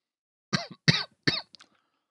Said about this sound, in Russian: Так извиняюсь, если я буду кашлять, я с этим ничего, к сожалению, поделать не могу.